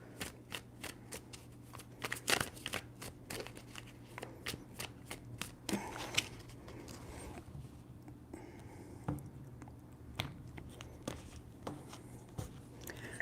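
Tarot cards being shuffled close up in a quiet room, a quick run of soft papery riffles and taps, faint and irregular, with no talking.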